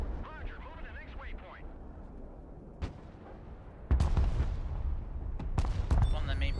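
MLRS rocket artillery barrage in the real-time strategy game Broken Arrow, a few sharp distant bangs followed by a louder, sustained roar of launches and impacts with repeated cracks, game audio without talk.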